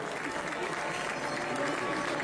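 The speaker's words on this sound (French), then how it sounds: "je crois que vous pouvez également chaleureusement applaudir tous les gens" Festival crowd at the Fêtes de la Saint Fleuret in Estaing, Aveyron, applauding steadily and densely throughout, a continuous wash of many hands clapping at close range with no pauses.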